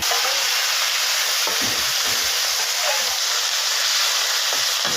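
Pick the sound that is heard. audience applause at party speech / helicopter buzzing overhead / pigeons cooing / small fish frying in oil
small fish frying in oil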